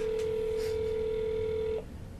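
A phone ring sounds as one steady, sustained electronic tone that cuts off after about two seconds, leaving faint background noise.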